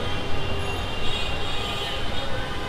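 Steady rumble and rattle of a moving Dhaka Metro Rail train between Karwan Bazar and Motijheel, with a constant roar and faint high whine throughout.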